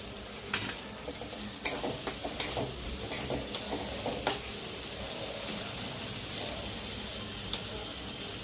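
Potatoes and peas sautéing in a pan over medium heat, a faint steady sizzle broken by several sharp spatula scrapes and clinks in the first half, then settling into a quieter continuous fry.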